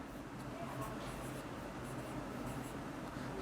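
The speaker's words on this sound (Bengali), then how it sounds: "আগে তোমাদের লিখে দিই।" A teacher writes on a board during an English grammar lesson, a short stretch of continuous scratchy marking, faint under room noise.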